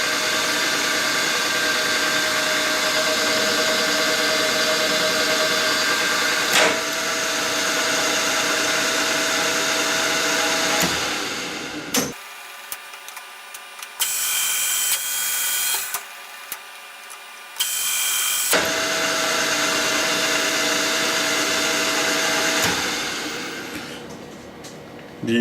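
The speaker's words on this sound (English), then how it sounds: "And back on the milling machine, we are power tapping the clamping holes." A milling machine power tapping clamping holes in a Tripan 111 toolholder, a steady loud motor whine that drops out briefly and stops and starts in the middle before resuming.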